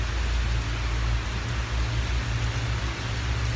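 Steady, loud rain pours down outdoors in July, a dense even hiss of drops on surfaces with a low rumble beneath, heard alone with no talking.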